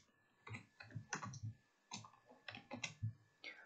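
Code is typed on a computer keyboard in short bursts of crisp clicking keystrokes separated by brief pauses, close and quiet, with no voices.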